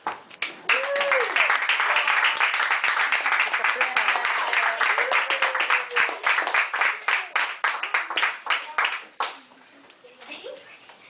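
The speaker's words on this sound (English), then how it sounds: "give an applause to our backstage." A school audience at a reader's theater performance claps in dense, sustained applause for the backstage crew, fading into scattered claps near the end, with someone speaking over the start.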